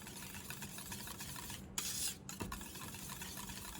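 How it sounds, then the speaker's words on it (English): Burger sauce ingredients are whisked in a bowl, giving a soft, steady scraping and swishing that runs continuously at close range and low level, with a couple of brief clinks partway through. "The whisk, we're gonna whisk this in just until it's incorporated."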